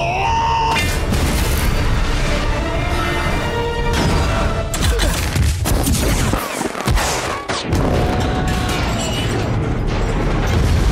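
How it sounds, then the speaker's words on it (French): Iron Man's Mark 42 armor blows apart in a film scene, a loud sustained barrage of booming blasts, crackling bursts and clanking mechanical debris running the whole stretch with a brief dip near the end. "Jarvis, tu peux faire exploser le Mark 42."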